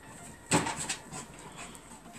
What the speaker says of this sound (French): Désolé pour les bruits derrière, c'est mon chien qui court après les chats.